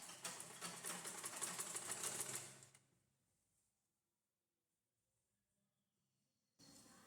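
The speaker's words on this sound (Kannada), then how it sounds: "ನಾನು ನಿಮಗೆ ನಿಧಾನಕ್ಕೆ ಸ್ಟಿಚ್ ಮಾಡಿ ತೋರಿಸ್ಕೊಡ್ತಾ ಇದ್ದೀನಿ, ನೀಟಾಗಿ ನೋಡ್ಕೊಳ್ಳಿ" A sewing machine stitches a normal blouse in a steady run for about three seconds, winds down into near silence, then briefly starts again at the end. Close and moderately loud, with no one talking.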